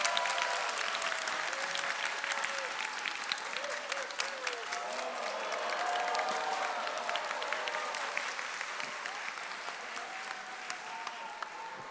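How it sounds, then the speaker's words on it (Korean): Congregation applauding during a church thanksgiving service, a full, sustained burst of many hands clapping at moderate distance, with faint voices and brief tones mixed in beneath the clapping. "우리 박수."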